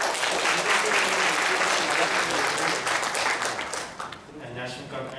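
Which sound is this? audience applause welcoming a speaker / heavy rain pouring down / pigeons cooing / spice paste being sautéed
audience applause welcoming a speaker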